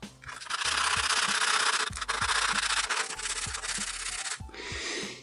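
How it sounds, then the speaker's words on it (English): Black areas of Rubik's cube pieces are sanded down by hand, producing continuous loud rasping strokes with brief pauses between passes, close up and with no talk. "we want to shave down or sand down only the black areas"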